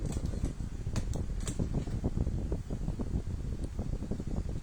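The cooling fan inside a DIY PDC fish shocker unit built around type 8 HY4008 MOSFETs runs with a steady whirring rush and rapid fluttering pulses, fairly quiet and with no voices.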